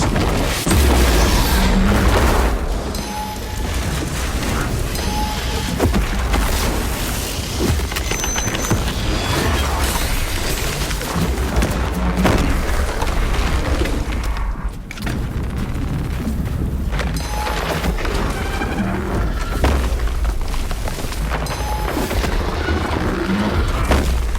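A melta charge goes off in Warhammer 40000: Space Marine 2 amid continuous loud combat, with deep booms, bursts of gunfire and mechanical clatter layered densely throughout.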